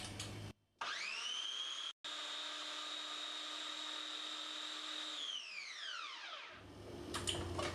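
A blender whirs steadily while blending pesto with olive oil being added, a loud sustained motor whine after a brief stop-start, then winding down in pitch until it cuts off, with a short clatter at the end.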